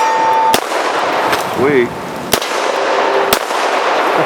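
A Ruger LCRx five-shot .38 Special revolver with a 3-inch barrel fires three sharp, loud shots spaced about a second apart, each a crisp crack with a short decay, and a voice speaks briefly between them.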